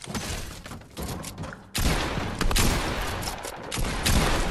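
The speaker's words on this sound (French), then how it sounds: "je rate toutes mes balles de pompe" Shotgun blasts in a shooter video game crack out in a dense, loud, rapid barrage, with the shots bunched close together and a brief pause before the firing resumes even harder.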